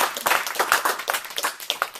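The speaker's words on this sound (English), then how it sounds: "So let's give ourselves a round of applause." Brief round of applause from a Toastmasters club audience, dense and lively clapping from a group of people throughout.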